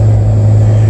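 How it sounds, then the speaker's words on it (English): A 2015 Maserati Ghibli SQ4 with a performance exhaust accelerates, giving a loud, steady low engine drone that holds at one pitch from start to finish with no talking. "the acceleration along with the sound coming from the performance exhaust"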